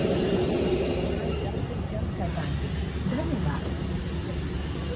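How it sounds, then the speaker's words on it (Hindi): A parked airplane's engine at the boarding gate for a Mumbai to Delhi flight gives a steady, broad, continuous roar that fills the whole stretch, with faint voices murmuring underneath. "तो है इंजन एरोप्लेन का"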